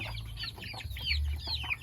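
A flock of native chickens, fed rice, clucks and chatters in close, busy bursts over a low steady background hum, with no talking.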